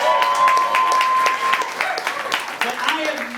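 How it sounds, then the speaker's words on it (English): Audience members clap for a speaker's wife at a gathering, a moderate, uneven patter of hands that fades and thins after the first seconds while a voice talks over it. "Give her a round of applause."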